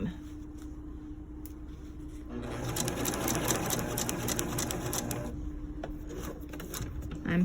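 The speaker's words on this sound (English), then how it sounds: "we're going to stitch right up to this seam and do a couple of careful back stitches" A sewing machine stitches a lined kimono jacket seam, running steadily and growing louder in the middle as it makes a few back stitches, close up with no talk over it.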